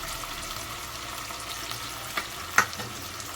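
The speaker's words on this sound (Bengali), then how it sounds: "এটা দিয়ে এবার ভালো করে ফ্রাই করতে হবে" Tomato, garlic and onion fry in a pan, giving a steady close sizzle. Two short clinks from stirring come near the end, and no one speaks.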